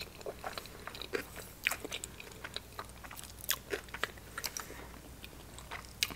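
Salmon sushi rolls are bitten and chewed close to the mic, producing steady soft crunches and wet chewing clicks in an even rhythm with no talking.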